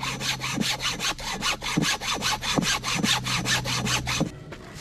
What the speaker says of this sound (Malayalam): ഒരു ഒന്നര ഫുട്ടിലുള്ള ഒരു പീസാണ് നമ്മൾ ഇതിൽ നിന്ന് കട്ട് ചെയ്തെടുക്കുന്നത്.